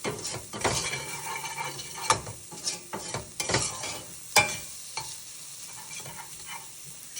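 Garlic cooks over low heat in a pot, softly sizzling while a spoon stirs and scrapes with repeated close, sharp clanks against the sides.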